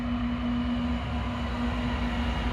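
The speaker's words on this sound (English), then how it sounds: "this is a intermodal train" A westbound intermodal freight train led by a KCS ES44AC locomotive with an NS trailing unit rolls past at Oak Harbor. A loud, steady rumble carries a sustained engine drone and constant wheel noise, with no talking.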